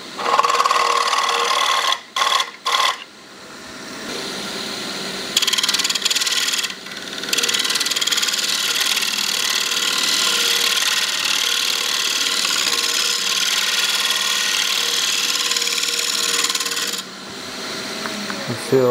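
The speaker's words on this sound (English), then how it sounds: "We'll just lightly scrape across the face of that." A turning tool scrapes lightly across the spinning face of an Australian hardwood platter on a woodturning lathe, a loud continuous hissing rasp broken by a few brief pauses early on.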